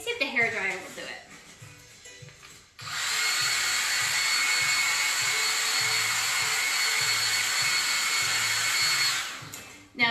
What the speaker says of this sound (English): Let me see if the hairdryer will do it.